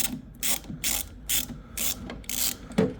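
Ratchet wrench loosening a 13 mm nut on a BMW E36, five or six close, crisp bursts of rapid clicking in a steady back-and-forth rhythm, ending with a metallic clunk.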